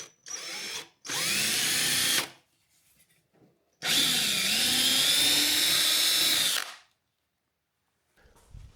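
A power drill whirs in two long bursts with a short break between them, drilling holes for a Jeep platform, loud and close, its pitch shifting slightly as it bites.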